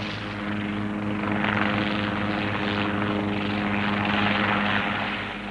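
Helicopter flying over the arid island of Syra, its rotor and engine drone steady and loud throughout, a continuous whirring hum with a strong low thrum and no voices.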